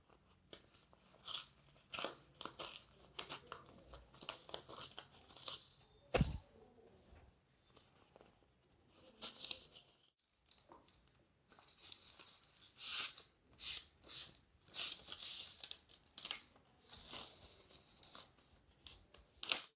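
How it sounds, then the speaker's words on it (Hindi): A package holding a PVC Aadhaar card is unboxed, with close, quiet crinkling, tearing and rustling of paper and plastic in irregular bursts, plus a sharp tap midway. "पीवीसी आधार कार्ड को अनबॉक्स करते हैं"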